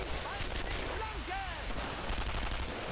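Gunfire crackles in the World War II shooter Brothers in Arms: Earned in Blood, rapid overlapping shots and bursts at close range, mixed with shouted voices.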